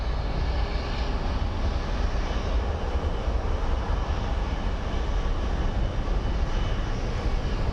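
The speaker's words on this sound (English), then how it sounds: "We do have a Boeing 767. It's a UPS one that's coming in." A UPS Boeing 767 arriving at Phoenix Sky Harbor airport, a loud, steady jet engine roar with heavy low rumble that holds constant throughout, heard outdoors with no talking.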